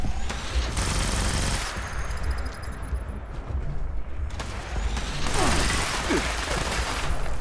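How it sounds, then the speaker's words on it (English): Heavy continuous fire from a minigun in Fallout 76 roars loud and sustained, a dense stream of rapid shots over constant game noise, with brief high whines near the start and middle. "it's a minigun"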